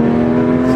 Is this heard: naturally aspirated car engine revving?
yes